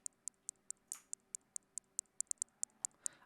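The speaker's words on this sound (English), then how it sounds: "The hi-hat is a simple 2 on the floor pattern." Hi-hat in a simple programmed beat pattern, a steady train of crisp, bright ticks that quickens toward the end, playing alone.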